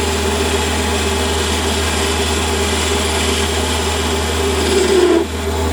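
Lathe taking a light scratch pass on a threaded adaptor: a steady motor hum with a constant whirring drone close by, a slight swell near the end, no talk.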